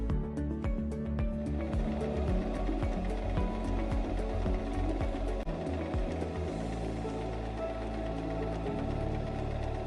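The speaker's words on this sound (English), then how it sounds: "step on the foot control to start sewing" A Singer M3330 sewing machine runs a straight stitch, its needle tapping in a quick, steady rhythm that blends into a continuous mechanical hum. It is close and moderately loud, with no talking.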